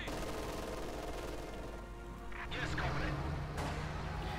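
Machine gun fire from an MG bunker in the video game Company of Heroes 2, heard amid a steady wash of battle noise and explosions, with a commentator talking over it.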